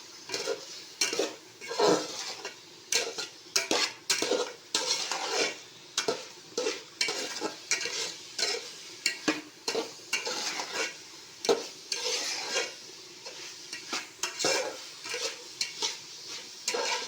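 Roasted ground masala is stirred into pepper chicken in a pan: a spoon scrapes in brisk, uneven strokes against the metal over a soft sizzle, close up and with no talking.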